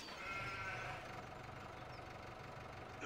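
Sheep bleat in Farming Simulator 17 over a steady low engine idle, the bleating layered in the first second and then fading to a faint call or two.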